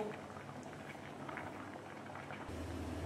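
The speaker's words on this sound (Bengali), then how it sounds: "এই যে সবে সবজি দিয়ে ফুটছে বন্ধুরা" Vegetables boil in a pot for spinach curry, a steady close bubbling and simmering patter that runs without pause, with a slight shift in tone near the end.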